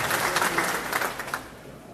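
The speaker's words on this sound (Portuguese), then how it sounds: "E desde já uma salva de palmas" Crowd applause at a government agriculture plan launch event in Rondônia, a brief burst of many people clapping that holds steady and then begins to fade toward the end.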